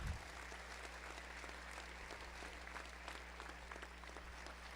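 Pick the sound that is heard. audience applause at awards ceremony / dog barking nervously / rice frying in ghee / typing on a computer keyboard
audience applause at awards ceremony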